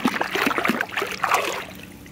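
A hand sweeps through the water of a swimming pool with green walls, making a quick run of close sloshing and splashing swishes that settle into a soft trickle.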